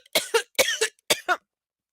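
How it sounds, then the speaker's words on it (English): A person coughs in three quick pairs of harsh, close coughs, each pair separated by a brief pause, followed by silence. "I can't stop coughing"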